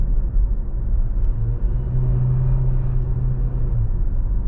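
A Hyundai Tucson plug-in hybrid drives along with its engine running, a steady low rumble and faint hum holding constant throughout, with no talking.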